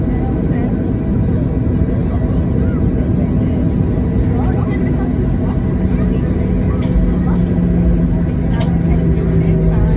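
TUI Boeing 737 airliner landing at Palma de Mallorca in the evening, heard from inside the cabin as a loud, steady engine and airframe roar filling the whole clip, with a faint voice underneath.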